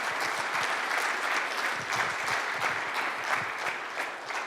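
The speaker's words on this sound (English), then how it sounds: "a big round of applause for Sanjay for sharing his experiences." An audience at a breakfast meeting gives a big round of applause: many hands clapping in a full, continuous burst with crisp individual claps showing through, sustained for several seconds without speech.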